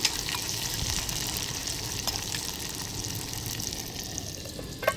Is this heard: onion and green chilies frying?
yes